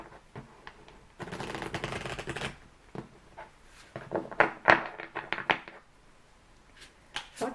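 Tarot cards handled and shuffled close up, a dense burst of riffling followed by scattered soft slaps and flicks as single cards are drawn and laid down.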